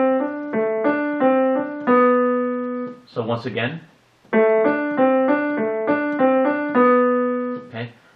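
Piano plays a rocking Alberti bass broken-chord accompaniment in steady back-and-forth patterns, from a Clementi sonatina first movement, pausing briefly while someone speaks, then resuming.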